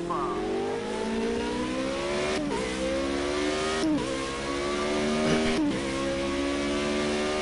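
Formula Renault 3.5 race car in the Project Cars 2 game, its engine revving high and climbing steadily through gears with quick upshifts, loud and close, while a voice talks underneath.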